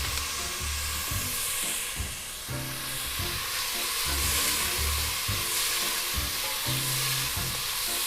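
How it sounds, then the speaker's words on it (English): Onions and garlic browning in a hot pan with pepper and salt, a loud continuous sizzle broken by repeated stirring scrapes, with no voices. "as I see the onions and the garlic starting to brown"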